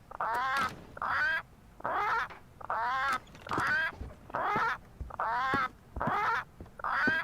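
A large parrot in the game Return to Monkey Island, giving a repeated series of about ten harsh, nasal squawks in an even rhythm, loud and close with short gaps between them.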